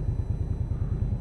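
An Indian Scout Bobber motorcycle engine idles in winter, producing a low, rhythmic pulsing rumble, close and fairly quiet, with no one speaking.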